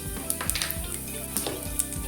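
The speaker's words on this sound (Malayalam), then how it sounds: "ഓയിലൊഴിച്ച് കടുക് പൊട്ടുന്നതിലേക്ക് ഉഴുന്ന് പരിപ്പ് ചേർക്കാം" Mustard seeds crackling and popping in hot oil with urad dal, sharp scattered pops over a steady close sizzle.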